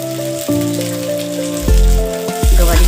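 Cluster beans (gavar) tipped into a pan of fried onion, setting off a steady sizzle that grows louder in surges as they hit the hot oil, over sustained tonal background sounds.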